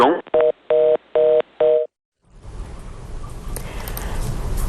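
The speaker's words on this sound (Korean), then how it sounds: "지금 현재 전화 연결에 조금 문제가 있었던 것 같은데요" Telephone tones during a failed phone connection on a live stock-market broadcast: four evenly spaced beeping bursts, then a break before a rising hiss of line noise, loud and clear with no one speaking.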